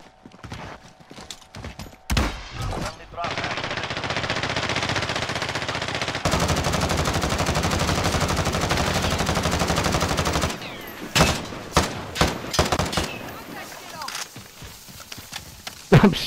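Heavy automatic gunfire from the video game Call of Duty Warzone rattles in long sustained bursts, loud and dense, followed by scattered sharp single shots, with a player talking over it.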